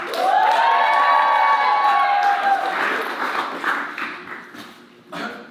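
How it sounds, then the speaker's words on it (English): A comedy roast championship crowd bursts into loud, sustained cheering and applause that swells at once, then thins out over a few seconds. "Big round of applause!"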